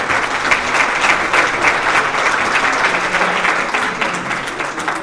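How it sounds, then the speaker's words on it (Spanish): Sustained audience applause after a panel talk on municipal transparency legislation, a thick wash of many hands clapping at an even, fairly loud level for about five seconds with no voices rising above it. "Aplauso."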